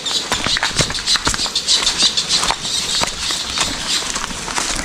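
Rain patters on a coconut farm during the copra harvest, with irregular soft taps and drips spread densely across the whole stretch, near and steady.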